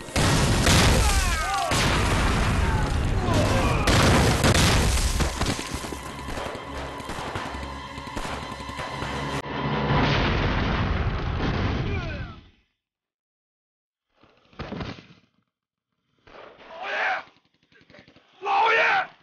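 Wartime battle scene from an anti-Japanese war drama: dense, loud gunfire and grenade blasts for about twelve seconds, then silence broken by three isolated booming explosions, with shouted voices mixed in.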